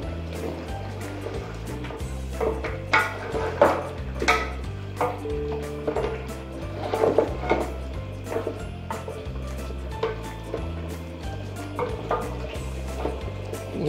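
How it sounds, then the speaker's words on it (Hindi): Whisked yogurt stirred continuously into simmering beef paya curry in a cooking pot, with repeated scraping and knocking of a spoon against the pot over a bubbling, sizzling background and a steady low hum. "अब ये देखें ये हम मुसलसल मिक्स किए जा रहे हैं।"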